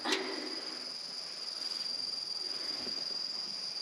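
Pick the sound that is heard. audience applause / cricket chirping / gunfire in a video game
cricket chirping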